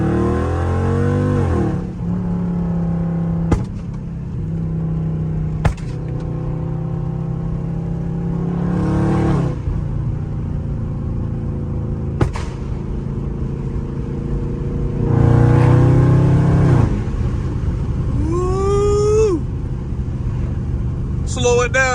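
A Dodge Charger Scat Pack engine revs and rumbles loudly and repeatedly close by, with pauses between throttle bursts and occasional voices in the background.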